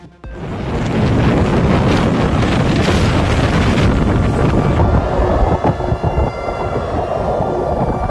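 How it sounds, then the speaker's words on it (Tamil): Typhoon winds roar over crashing sea waves about 26 feet high, driven by gusts near 133 km/h, a loud, dense, continuous rumble with buffeting wind noise on the microphone throughout and no speech. "மணிக்கு 133 கிலோமீட்டர் வேகத்தில் வீசிய புவலாய் புயலால் 26 அடி உயரத்திற்கு எழுந்த கடல் அலைகள்."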